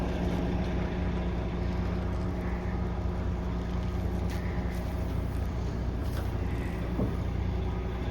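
An old Austin truck engine rumbles steadily at moderate distance as it drives away, a broadband vehicle drone with low hum holding through, loudness fairly even throughout.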